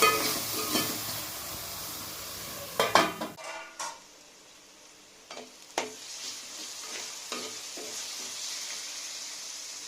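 Tomato pieces and masala frying in a pan for Nellore fish curry: loud sizzling and stirring at first, then quieter bubbling with scattered spoon and pan clinks.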